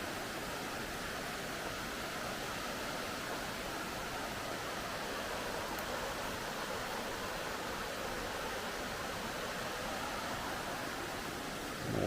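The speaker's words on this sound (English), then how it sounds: "Now here I am approaching the top of Dix Creek Falls." Dicks Creek Falls on the Bartram Trail rushes in a steady, broad wash of falling water, constant and fairly loud from near the top of the falls, with no talk.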